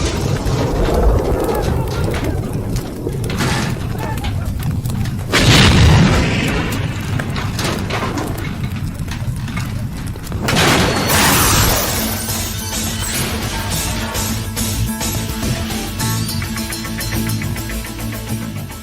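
Heavy booms and crashes from a car bomb explosion in a Balu movie action scene, with loud blasts and shattering debris amid dramatic background music.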